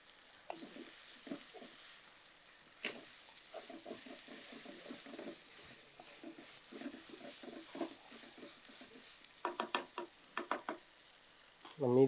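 Masala paste for goat trotter thokku frying in oil, with quiet patches of sizzle and scraping stirs coming in bursts, and sharper clatters near the end.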